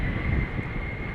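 A KLM airliner departing Schiphol for London City gives off a brief, steady, moderately loud jet engine rumble with a sustained tonal whine.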